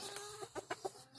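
Free-range chickens of a Brazilian caipira breed clucking in a few short, separate bursts, fairly close and moderately loud over a soft farmyard background.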